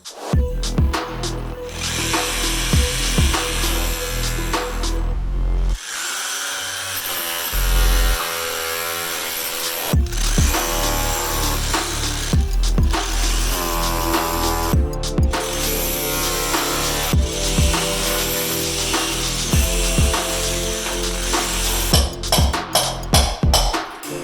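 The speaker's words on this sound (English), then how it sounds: "Now I'm just chiseling around it with a hammer drill, get that thing off" A hammer drill chiseling a window off a van, loud and close, hammering in repeated bursts with short pauses and a rattling, buzzing tone throughout.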